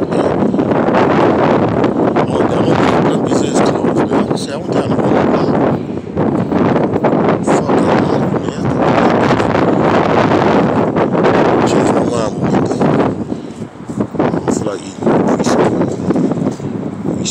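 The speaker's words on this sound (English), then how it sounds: "It's windy out here, y'all." Loud, gusty wind buffets the microphone continuously, roaring and rumbling with brief lulls between strong blasts.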